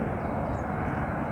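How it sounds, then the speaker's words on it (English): A low-flying airliner rumbles overhead near Bangalore airport, a loud, steady broadband engine roar filling the whole stretch without pause. "Yes, there's a plane coming up."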